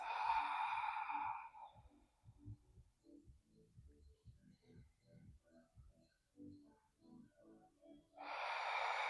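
A long, breathy exhale through the mouth during a lying-down breathing exercise, close and clear, followed by a quiet stretch with faint soft rustles, then another long exhale.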